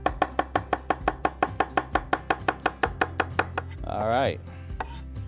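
A knife chops onion on a board in a fast, even run of close, crisp strokes that stop near the end. A brief voice follows the chopping.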